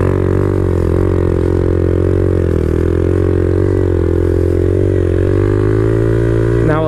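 Honda Grom motorcycle engine held at steady revs through a wheelie, a loud close drone with rising and falling pitch and a brief rev change at the end.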